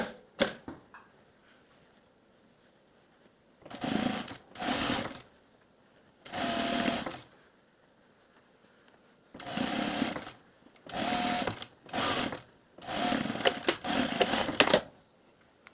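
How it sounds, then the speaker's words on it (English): A sewing machine stitches a cuff onto the lining of a raincoat sleeve in several separate bursts, the motor whirring for a second or two each time, with quiet pauses between runs and no talking. "we're going to stretch the cuff to fit the opening as we sew it on"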